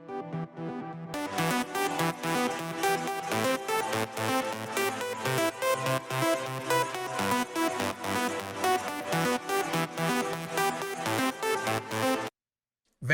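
Processed synth leads in a dreamy, spacey electronic style play loudly and continuously as a dense, layered track with a steady rhythmic pulse, then cut out abruptly near the end.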